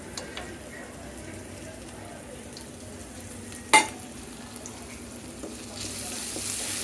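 Chopped onions fry in a pan of oil left from frying fish, a soft, continuous sizzle heard close up with one sharp clatter partway through and a brief hiss near the end.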